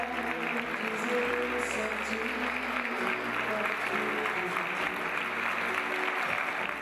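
Warm, sustained applause from a studio audience at a Brazilian TV event, a dense steady wash of clapping throughout with a low hum beneath.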